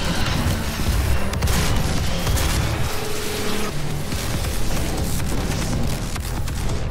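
Rocket launches and explosions in the demon-shooter Doom, a continuous loud barrage of booming blasts layered with mechanical clatter and gunfire, with no pause across seven seconds.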